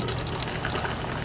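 A pot of clam soup with bok choy simmers, giving a continuous soft bubbling and gentle liquid burble, close and steady with no talking.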